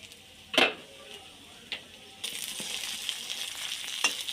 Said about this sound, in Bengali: এবার ওই তেলের মধ্যে আমি বেগুনগুলো ভেজে নেব।